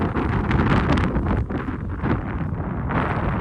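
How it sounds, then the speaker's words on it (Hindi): Strong wind in the Ladakh cold desert buffets the microphone in loud, continuous gusts that rise and dip, with no one speaking over it. "भयंकर हवा चल रही है भाई। जरा सुनिए हवा की आवाज़ को"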